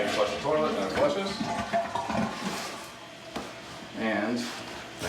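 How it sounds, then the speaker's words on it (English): A newly installed toilet flushes with a rushing swirl of water that keeps running as the tank refills, heard close by with someone talking over it. "now you flush the toilet, and it flushes"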